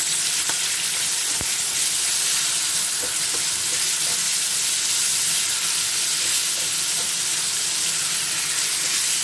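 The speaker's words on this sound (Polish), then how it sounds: "Zaraz doleję troszeczkę wrzątku i z tego fajnie powstanie mi sosik." Boiling water poured into a pan of sizzling keto goulash with Chinese cabbage and tomato purée, a steady loud frying hiss throughout with faint stirring clicks and a couple of brief sharp ticks.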